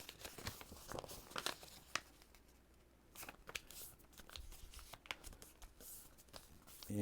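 Plain paper being folded and creased by hand while shaping a paper phoenix, close crinkling, rustling and sharp crunchy creasing strokes coming in irregular bursts with brief pauses.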